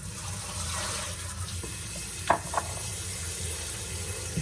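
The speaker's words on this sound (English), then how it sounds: "And then you put the cold water, Uh-huh. so it won't stick." Cold water runs steadily from a kitchen tap over cooked pasta, a continuous hiss and splash with a couple of brief louder spatters, no talking.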